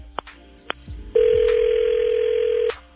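A telephone on a call: two brief tones, then a steady, loud electronic ring tone that holds for about a second and a half before cutting off, with no voices.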